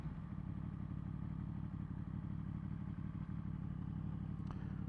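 Yamaha MT10SP motorcycle with an Akrapovic exhaust riding along a coast road, a steady, loud engine drone with a continuous low rumble close to the rider and no talk.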